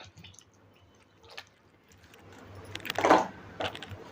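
Water is poured from a glass into bajra appe batter to thin it. Soft trickles and drips build into a brief, louder liquid splash near the end, close by and without talk.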